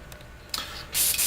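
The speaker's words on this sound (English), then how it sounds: "So first off, I'm going to spray this wing" Gloss blue paint sprayed onto the wing of a Tamiya 1/48 F-16 Falcon model kit, heard as a brief hiss followed by a louder, steady airy spray burst near the end.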